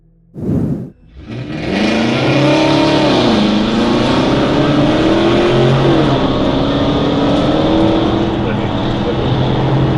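A yellow Dodge Challenger muscle car speeds off through residential streets in a police chase. After a brief thump, its engine roars up loud and close and holds a hard, sustained acceleration with shifting pitch, while a voice talks over it.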